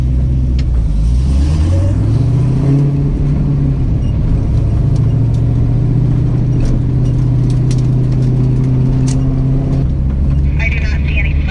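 A car revs hard for a burnout at Medford Drag Strip. The loud, close engine climbs in pitch, holds a steady high drone for several seconds, then drops back.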